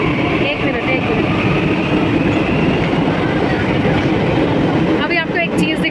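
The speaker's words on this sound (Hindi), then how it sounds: "बाय बाय मेट्रो, बहुत लंबा सफ़र कटवा के लेके आई है मेट्रो हमें।" Metro train pulling out of a station, a loud continuous rumble and rail clatter close by with a rising whine, fading near the end as a voice speaks briefly.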